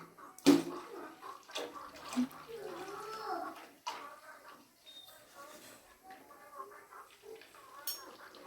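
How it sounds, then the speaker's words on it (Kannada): Ground ration-rice batter for sandige pours into a pot of boiling water with a sloshing, watery gush and a sharp splash at the start, while a voice talks over it at moderate level. "ಇವಾಗ ರುಬ್ಬಿರೋದನ್ನು ಹಾಕ್ತಾಯಿದ್ದೀನಿ."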